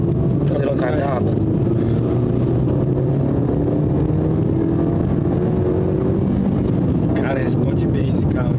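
A Ford Fiesta S 1.5 accelerates from 0 to 100 km/h on a highway, a steady in-cabin engine drone rising through the gears under road noise, with people talking over it.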